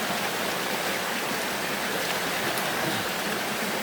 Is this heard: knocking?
no